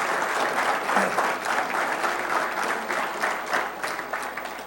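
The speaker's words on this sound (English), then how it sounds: "if we can give another round of applause, to Hall of Famer Mel Blount" An audience at a Pro Football Hall of Fame event gives a round of applause welcoming the speaker, sustained loud clapping from a crowded room that stays even throughout without speech.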